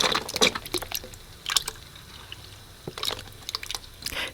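Coconut cream is poured into a pan of curry and pork saute in a home kitchen, making soft liquid splashes and drips in short bursts, fairly close and quiet, with no talking.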